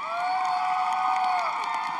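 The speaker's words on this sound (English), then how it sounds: "a big round of applause" A dance competition audience cheers and shouts for the honorable mentions, a soft, steady wash of crowd noise heard at a distance.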